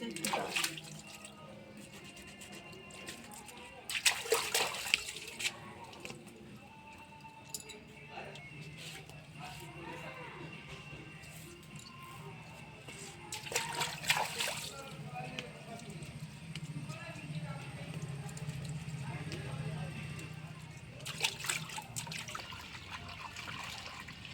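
Fish are washed in water with intermittent splashing and rinsing bursts over a low, steady background, while a person talks at times.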